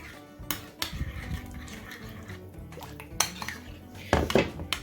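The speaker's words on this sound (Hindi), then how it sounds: "ये सब डाल के इसको मैं मिक्स करूँगी" Spoon mixing cumin, turmeric, chili powder and garam masala in a metal bowl, giving close, irregular clinks and scrapes of metal against metal with soft stirring between, no talk.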